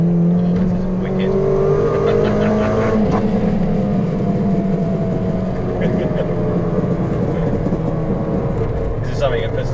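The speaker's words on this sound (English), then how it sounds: "you get the overrun pop and bang in the exhaust as well" A Ford Racing Puma engine revs loudly nearby, with scattered sharp overrun crackles and pops from the exhaust as the throttle lifts; a voice speaks over it.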